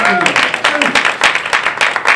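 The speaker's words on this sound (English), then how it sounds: "Y'all clap for y'allself, women." Audience at a comedy promo show in DC claps and cheers, a dense crackle of hands close and fairly loud, with a voice calling out over the first moments.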